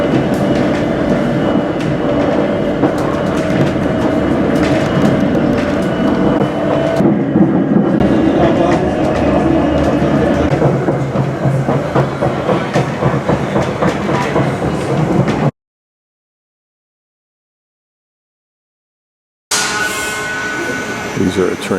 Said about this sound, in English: These are the trains we use between the top of that cable car and Murren